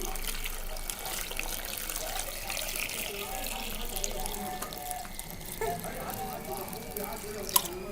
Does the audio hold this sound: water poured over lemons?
yes